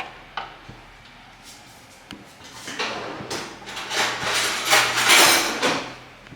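A pan of clarified butter being set on a kitchen stove, with a run of knocks and clatters that build into louder, dense scraping and rattling of metal close by.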